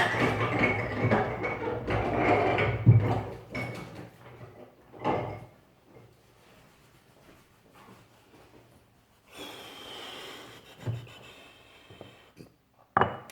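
Hands rub dry seasoning into raw meat for a French Sunday lunch: close, scratchy rubbing and shuffling strokes, busier at first, then sparse soft scrapes and bumps among quiet gaps.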